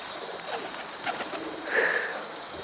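A soft bird call rises briefly near the middle, over a steady outdoor hiss; a pigeon-like coo, faint and fairly distant, with no talking.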